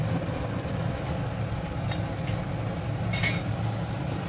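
Chicken curry with sprinkled kasuri methi is stirred in a pan, giving a steady, close bubbling sizzle with a brief scraping touch of the utensil near the end and no talk.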